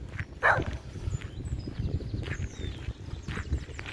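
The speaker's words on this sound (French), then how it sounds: "Avec un chien qui m'aboie dessus" A single sharp dog bark rings out near the start of a cold-weather countryside hike by a chapel in Saint-Guénaël, Brittany, followed by faint rustling and distant outdoor noise.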